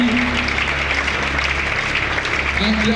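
A church congregation applauds and cheers, steady dense clapping with a low sustained hum and tonal background underneath, voices mixed in throughout.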